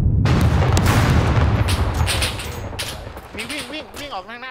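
Gunfire rings out in the survival video game Scum, a dense, loud burst of rapid shots and booms that fades after a couple of seconds, with a voice talking over the end.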